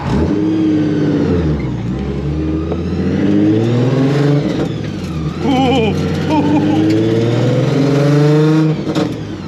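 Supercharged Nissan 350Z with a Procharger, engine revved hard and climbing in pitch in repeated pulls, loud and close, with brief dips between surges.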